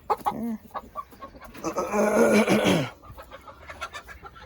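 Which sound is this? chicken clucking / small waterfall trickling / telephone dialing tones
chicken clucking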